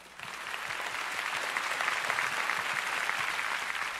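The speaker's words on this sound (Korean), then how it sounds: "다시 한번 큰 박수 부탁드리겠습니다." Sustained audience applause fills a hall at a Korean literary award ceremony, the 8th Honbul Literary Award, following a musical performance; steady dense clapping without a break.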